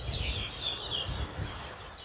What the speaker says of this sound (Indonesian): banyak banget burung keterbangan